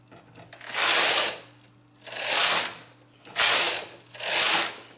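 A knitting machine carriage sliding across the needles on a sweater project, four evenly spaced rattling, ratcheting passes back and forth, close and clear with no talk.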